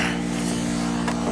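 On a cold day, the Detroit Diesel 671 engine of an International truck gives a brief, loud, steady drone up close, with no talking.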